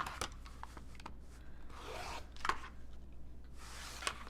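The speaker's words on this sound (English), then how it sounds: "I fold this, cut the selvage off" Rotary or scissor cutting through folded quilting fabric, trimming off the selvage: a few short, faint crisp slicing and rasping strokes in a quiet room, with no talking.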